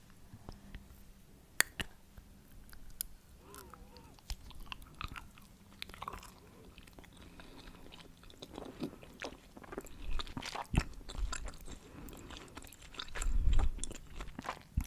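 Hard, slightly tingly chewing gum from a Halloween tasting is bitten and chewed very close, with crunchy, wet clicks and squishes that grow louder and busier toward the end, with no talking.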